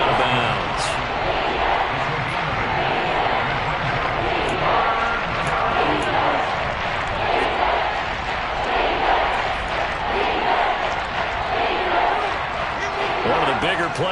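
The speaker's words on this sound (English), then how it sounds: "The crowd getting into it as we come up on a big 3rd down" Crowd noise at a televised football game builds ahead of a big third down, a steady dense roar from a large stadium audience running under a commentator's voice throughout.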